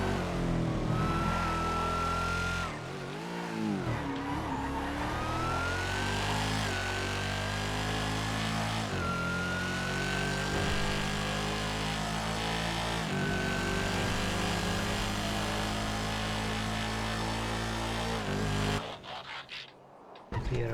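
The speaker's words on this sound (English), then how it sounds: "so you can listen to the sound of this car." Race car engine in a racing video game, a loud continuous high-revving drone rising and dropping with gear shifts over about twenty seconds, alone without talk, briefly cutting out near the end.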